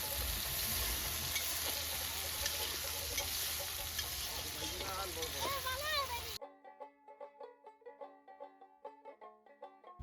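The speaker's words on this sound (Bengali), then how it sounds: "এখন মাংসের জন্য তেলের মধ্যে পেঁয়াজ কুচি, লঙ্কা, লবণ দিয়ে নিলাম। রসুনটাও দিয়ে দিলাম।" Chopped onion, green chili, salt and garlic frying in oil at an outdoor village picnic cook-up, a dense close sizzle for about six seconds, then an abrupt cut to faint, pulsing, tonal sounds.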